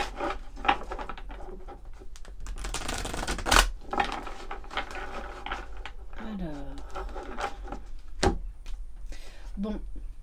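Oracle cards are shuffled by hand, producing crisp papery riffles and slaps in quick bursts close to the listener, alongside intermittent talking.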